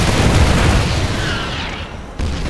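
Siege tank fire in a StarCraft match, a dense run of deep booming blasts that roll together into a continuous rumble, loud and close, with a fresh thump near the end.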